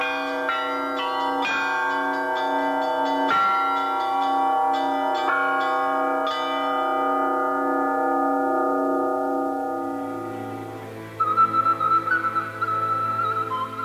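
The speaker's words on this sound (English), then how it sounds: "The art of bell ringing brings together the most well-known ringers from all the world." Bells ring in Moldova in a rhythmic peal of several struck bells with long ringing overtones that fade into a softer, higher chiming at the end.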